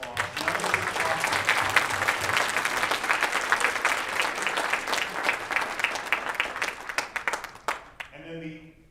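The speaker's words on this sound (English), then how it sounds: "Let's give them a huge round of applause." Loud, dense audience applause at a programming championship event, sustained for several seconds, then thinning into scattered claps before stopping abruptly.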